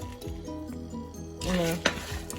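Dry chilies, black pepper and cumin roast in a pan for Andhra-style paruppu podi, with soft scraping stirs and a brief sharp clink of utensil against the pan.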